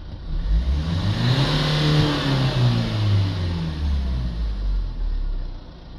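A diesel engine is held at raised revs during a turbine upstream exhaust back pressure test, giving a steady, fairly loud drone with slight rises and dips in pitch and no talk.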